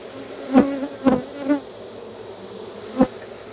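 Honeybees buzz inside a hive with a microphone held close, a steady low hum broken by several louder passing drones as individual bees fly near.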